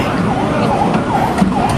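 An ambulance siren wailing steadily through the whole stretch, its rising and falling sweeps fairly loud over busy street traffic noise in Hong Kong.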